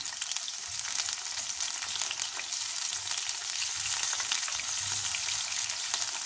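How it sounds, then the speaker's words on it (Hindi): Ginger garlic paste and cumin seeds fry in a pan with a steady, bright sizzle and faint crackles, close and continuous, without anyone talking. "ये अदरक लहसुन थोड़ा सा भूना"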